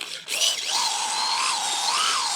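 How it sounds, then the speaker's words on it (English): Power tool turning a 3/8 inch reamer through a hole, a close, high-pitched continuous whine starting after a short pause and holding steady with slight wavering for about two seconds. "I'm going to ream it with the 3/8."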